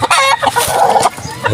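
A hen calling loudly and close, a run of clucking and crowing-like notes that fills the whole moment, with no talk over it.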